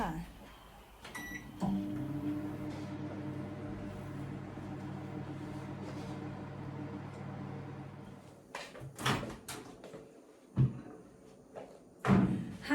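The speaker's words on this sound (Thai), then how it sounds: "เปิดไมโครเวฟไปเลยค่ะ 5 นาทีนะคะ" A microwave oven starts up to steam sticky rice in a covered container with water for five minutes, giving a steady low hum near the mic, followed by sharp door and handling clatters.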